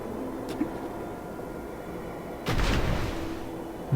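A single muffled grenade blast in The Vanishing of Ethan Carter erupts about midway, a broad rumbling boom that lingers briefly over low background noise, with a faint earlier click.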